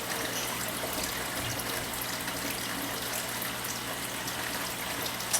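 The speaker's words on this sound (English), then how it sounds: "So now it's pouring. Now it just started hitting the water." Water pours and trickles steadily from a drip feeder into a water-filled container, a continuous soft splashing wash that stays even and close throughout with no voices.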